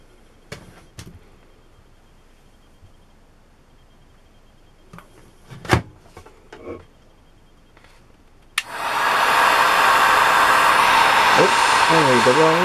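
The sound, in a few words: hot air tool heating a DIY bracelet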